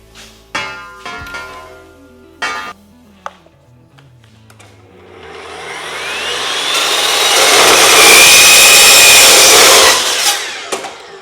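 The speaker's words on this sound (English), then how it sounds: "What's really cool about this saw too is instead of your piece moving when you miter cut, the actual saw moves." A miter saw cuts through 6x6 steel square tube, starting with a few sharp knocks and clunks before a loud, rising, harsh grinding whine builds and holds for several seconds, then cuts off.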